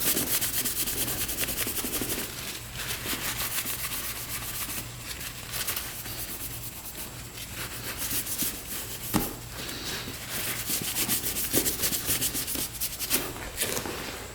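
An aluminum subframe of a 2-stroke dirt bike is polished by hand, making a steady, dense rubbing hiss that runs without a break and carries a few sharper scrapes and knocks, with no voices.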